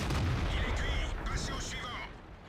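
A tank cannon hit lands in World of Tanks, an E50 striking the player's Bat-Chat at close range as a loud, heavy boom with a rumbling low-end decay lasting a couple of seconds.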